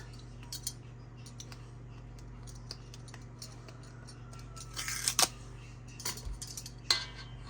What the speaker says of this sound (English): Let me get this little container opened.